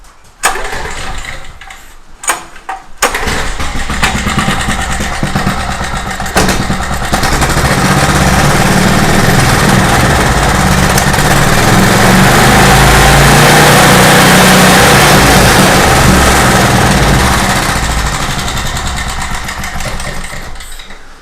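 A small generator engine cranks with a few brief pulls, then catches and runs steadily at a loud, constant idle close by, the drone holding until the end.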